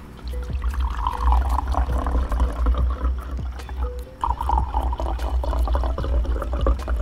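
Portuguese Vinho Verde white wine is poured into a glass, a close, continuous liquid splashing and gurgling with a short break partway through before the flow resumes.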